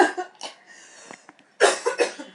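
A woman coughs in several harsh bursts, a cluster at the start, quieter breathy sounds in between, then a louder fit of coughs near the end, close to the microphone.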